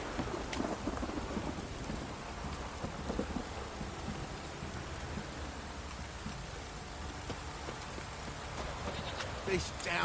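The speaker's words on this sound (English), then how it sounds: "This downpour's a bastard, it is." Heavy rain pours down steadily with dense hiss, thunder rumbling underneath, and a voice muttering briefly through the downpour.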